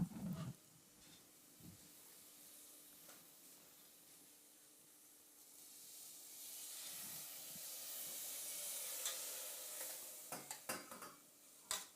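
Trout wrapped in green leaves steams in a saucepan over gentle heat, a soft hiss that slowly swells into a louder, sustained steam rush, with a few faint clinks and stirring taps near the start and end.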